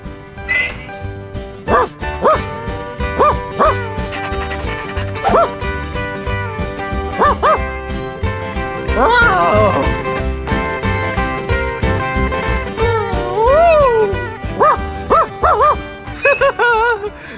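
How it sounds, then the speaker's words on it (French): Dogs barking inside a barn, repeated close yips and bow-wows scattered through, with whining calls and some howl-like cries over steady background sound. "C'est là que les chiens dorment."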